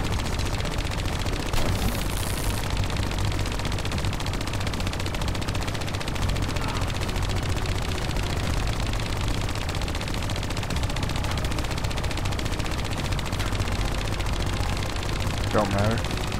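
Mounted turret machine gun in Call of Duty: Black Ops 3, sustained dense rapid gunfire filling the whole stretch with battle noise, while players talk over it.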